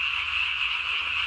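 A tree frog croaks at night, a loud, close, continuous buzzing trill that holds steady for the whole moment with no pauses.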